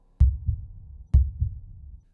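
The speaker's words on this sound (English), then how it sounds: "She sat up, her heart pounding," A heartbeat sound effect for a horror story gives two deep, loud double thumps about a second apart, each a strong beat followed by a softer one, with nothing else around it.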